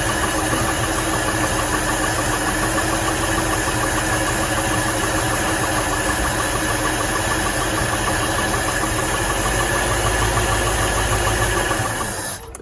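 A 1973 Ford Mustang, stored for 12 years, runs at a loud, steady idle with a rough, slightly knocking rumble and vibration, close up, before cutting off abruptly at the very end.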